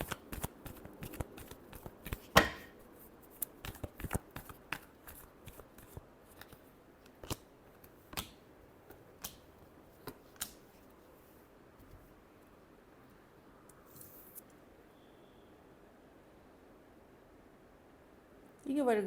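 Tarot cards shuffled by hand in a run of crisp riffling flutters and taps that crowd the first ten seconds, then thin out into a few scattered snaps near the end, close and fairly quiet.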